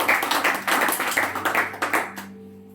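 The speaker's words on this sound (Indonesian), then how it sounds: "Beri tepuk tangan yang meriah." A church congregation applauding during a Sunday service: a dense, lively burst of many hands clapping in quick rhythm, which then stops abruptly, leaving a low hum.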